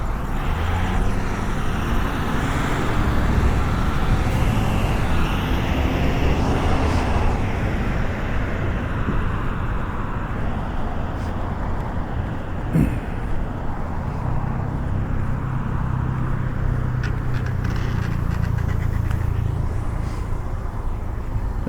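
Cars drive past at night in an outdoor area around midnight, a continuous roadway roar with vehicles swelling and fading, moderately near, with a brief sharp knock partway through.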